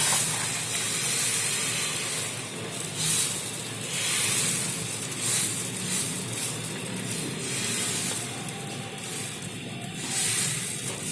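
Beaten egg paratha mixture poured onto a hot griddle over a slow flame, giving a steady close hiss and sizzle that runs unbroken throughout with faint crackling, no talking.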